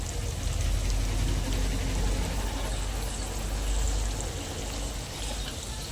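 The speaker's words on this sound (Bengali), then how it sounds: "তো এরপরে দিয়ে দেবো অল্প করে একটু জল, যাতে মশলাটা পুড়ে না যায়।" A little water poured into spices frying in a pan with oil, cumin, coriander, Kashmiri chili powder and salt, giving a loud, steady, close sizzle and hiss that lasts throughout and eases slightly near the end.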